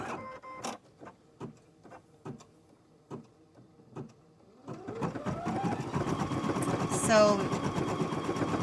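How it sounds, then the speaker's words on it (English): An embroidery machine stitching a hat with green thread: first a run of evenly spaced mechanical taps, then a continuous whirring, rattling stitch sound with a rising motor tone, as a voice says a single word. "I never leave my embroidery machine just running"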